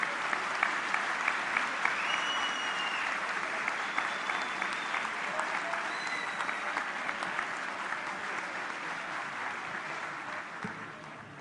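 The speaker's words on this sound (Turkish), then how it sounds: "Yüksek alkışlarınızla hayırlı olsun diyorum efendim" Sustained applause from a large audience at a parliamentary party group meeting, a dense, steady wash of clapping that holds for the whole stretch and fades slightly toward the end, with faint voices and whistles mixed in.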